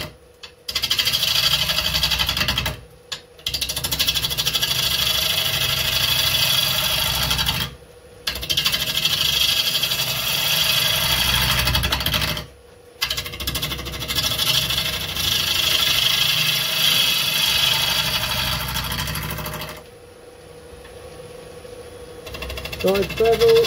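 A wood lathe spins a bowl blank at 750 RPM while a gouge takes off the corners, producing loud, continuous rasping cuts broken by a few short pauses.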